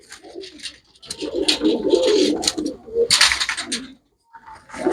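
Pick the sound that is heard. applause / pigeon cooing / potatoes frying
pigeon cooing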